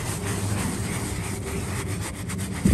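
Hand scrubbing of car floor mats from an EF hatchback, a steady close brushing and rubbing that runs continuously with no talk over it.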